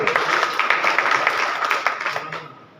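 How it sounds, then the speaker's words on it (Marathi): A group claps steadily at a local public event, the applause fairly loud and continuous before trailing off at the end. "सर्वांच्या वतीनं टाळ्या वाजवून या ठिकाणी स्वागत करतो"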